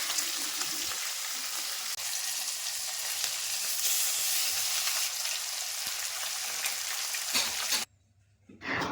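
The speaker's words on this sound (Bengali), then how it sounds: "মাছগুলিকে একদম এপিট ওপিট করে এবং লাল লাল করে ভেজে নিতে হবে" Pieces of katla fish frying in hot oil, a loud continuous close sizzle and crackle that holds steady for several seconds before cutting off abruptly near the end.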